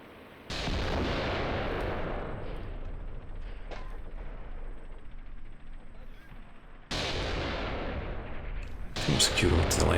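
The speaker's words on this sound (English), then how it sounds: "Artillery's pasting that area now" Artillery fire in the war game Graviteam Tactics: heavy booming barrages with long rumbling tails, loud and sustained, a second burst after a pause, with crackling shots near the end.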